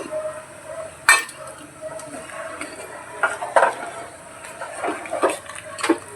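A spoon stirs sugar into vermicelli payasam in a pan, giving wet scraping sloshes and occasional knocks against the metal, close and moderately loud, repeated irregularly over several seconds.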